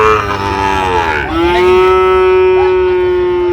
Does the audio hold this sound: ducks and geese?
no